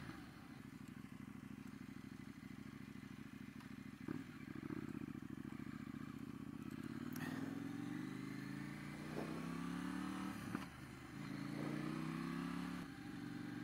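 A KTM Duke 790 motorcycle engine rumbles at idle, then revs up several times, with the exhaust note rising and falling; faint clatter between revs, no voices.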